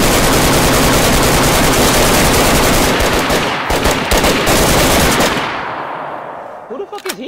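Loud, rapid automatic gunfire in the survival game DayZ rattles in dense continuous bursts, then cuts off and trails into a fading echo, with no talk.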